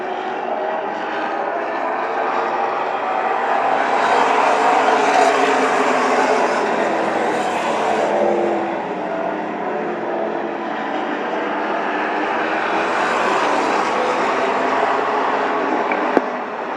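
Stock cars race around Shangri-la Speedway, their engines making a loud, continuous roar that swells and fades as the pack circles the oval, with no voices over it.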